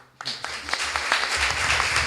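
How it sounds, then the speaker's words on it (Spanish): Audience applause at a human rights lecture on the refugee crisis, a burst of steady clapping from a crowd that begins abruptly and continues evenly throughout. "Un aplauso."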